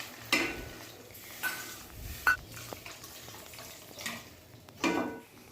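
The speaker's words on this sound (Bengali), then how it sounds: "এবার দিয়ে দিচ্ছি বেশ কিছুটা জল।" Water is poured into a pan of potatoes frying in spices: a soft, low sizzle broken by several short bursts of splashing and hissing, fairly quiet and close, with no talking.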